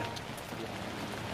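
Steady rain falls outdoors on a farm in Davao Oriental during corn harvest, a soft, even hiss of drops that continues without a break and stays faint throughout.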